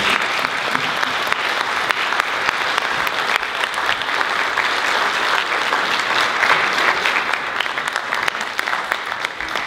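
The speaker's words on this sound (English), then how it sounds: "we could give them a round of applause" An audience at a community flood recovery meeting applauds in a steady, dense round of clapping that lasts throughout, close and moderately loud, with no speech over it.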